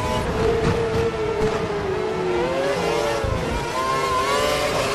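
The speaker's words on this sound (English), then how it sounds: "He's running full revs, maximum power." A Formula One car in the F1 2012 racing game, on the Monaco Grand Prix circuit, holds full revs at maximum power, a loud continuous engine whine with shifting pitch and no talking.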